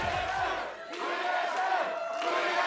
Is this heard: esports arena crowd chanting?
yes